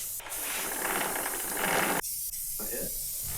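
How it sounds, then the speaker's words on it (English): A steady hiss of aerosol protectant sprayed onto a dirt bike, close and continuous, ending with a couple of short sputtering bursts. "now I'm gonna spray it down with some stuff to keep the dirt from sticking to it"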